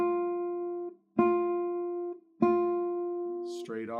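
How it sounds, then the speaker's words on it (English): A guitar string is plucked with the right side of the fingernail three times in a slow, even rhythm, each note ringing out clearly and decaying before the next, with a brief voice entering at the end. "that presents the fingernail on its right side, and that sounds like that."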